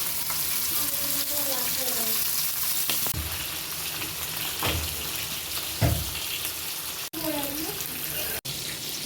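Fish frying in hot oil with curry leaves, a steady broadband sizzle throughout, with a few louder crackles and bursts as the pieces settle, close and continuous with no talk.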